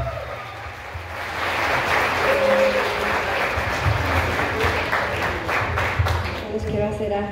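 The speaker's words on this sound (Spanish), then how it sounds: "fuerte el aplauso" Crowd applause at a party in a Hollywood event hall, a sustained wash of clapping that swells and holds for several seconds, with voices talking over it.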